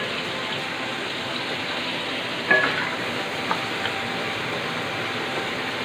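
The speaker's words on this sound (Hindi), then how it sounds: "ब्राउन होने तक इसे हमने फ्राई करना है।" Chicken sizzling in a pot with salt and cumin for yakhni pulao, a steady even hiss of frying throughout, with one metallic clink of a utensil partway through.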